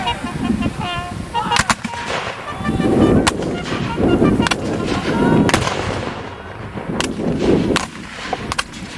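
Company volleys of muskets at a Civil War reenactment, heard as several sharp, loud cracks spaced a second or two apart, each followed by a rumbling roll, with outdoor ambience between the shots.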